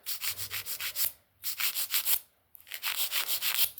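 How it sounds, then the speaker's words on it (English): Nail being filed into shape, quick rhythmic scratchy strokes in three short bursts separated by brief pauses, close and fairly soft. "So at this point, I'm just going to file."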